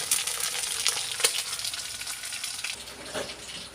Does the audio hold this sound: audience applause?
no